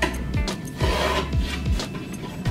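A utility knife scores a drywall sheet in repeated rasping strokes, about five close, steady scrapes in a row, with no talking.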